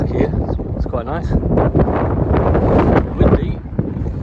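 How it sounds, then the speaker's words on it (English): Gusty wind buffets the microphone with a steady low rumble throughout in the market town of Crook, County Durham, England, while a person talks over it. "Windy."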